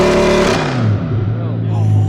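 A loud straight-piped Audi R8 exhaust roars as the engine revs, then the pitch drops and rises again in a deep, rumbling blat, echoing off nearby mountains.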